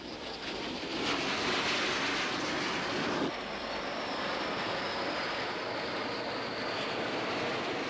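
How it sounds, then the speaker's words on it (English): French-built Mystère fighter-bomber jets flying in a wartime air strike, a steady, broad roaring rush that stays loud throughout with a slight shift partway through, no voices. "In the first wave, French-built Mystère fighter bombers."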